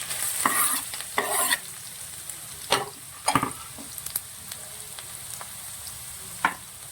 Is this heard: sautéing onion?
yes